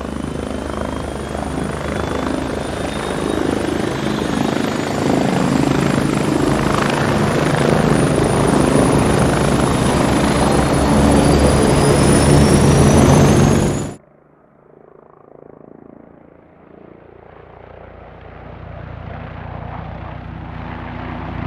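SA-330 helicopter in the video game Squad, a loud continuous rotor thump and turbine whine for about fourteen seconds that cuts off abruptly, leaving a quieter low engine rumble.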